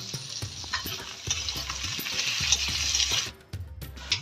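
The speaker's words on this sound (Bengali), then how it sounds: "আলু ভাজার সময় খুব সামান্য পরিমাণে লবণ দিয়ে ভেজে নেব।" Potato pieces fry in hot oil with a pinch of salt, a continuous bright sizzle broken by repeated scraping stirs, briefly dropping away near the end before resuming.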